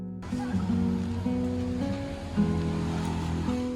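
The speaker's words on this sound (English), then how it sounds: "We are taking a fast boat to get to the island" A fast boat's steady engine drones with shifting tones over rushing sea water and wind, continuous and close throughout, crossing from Bali to Nusa Lembongan.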